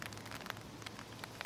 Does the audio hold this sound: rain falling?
yes